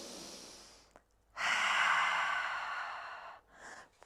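Slow, deep breaths during a Hatha yoga flow, with a short inhale and then a long, steady exhale that is close and fairly loud, followed by a brief softer breath.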